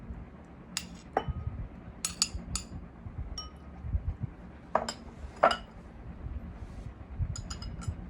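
Mashed strawberry is spooned into a glass for a mocktail, giving sparse, sharp clinks of utensil against glass at irregular intervals over a quiet background.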